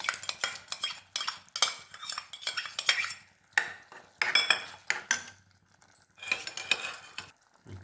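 Cooked, mashed toor dal is spooned into a pot for sundakkai kootu, with a metal spoon repeatedly scraping, tapping and clinking against the pot in quick, close, irregular bursts.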